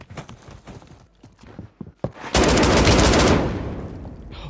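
Gunfire from a shotgun converted into an assault rifle: a sharp, loud blast followed by a dense burst of rapid shots that rings out and slowly decays, after a stretch of quieter clicks and handling noises.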